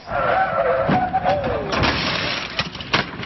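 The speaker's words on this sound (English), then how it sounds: "you hear a vehicle suddenly rev up, then this" A vehicle engine, from a police officer's blue unmarked truck, revs loudly and climbs, then gives way to thuds and clattering impact noises, fairly close.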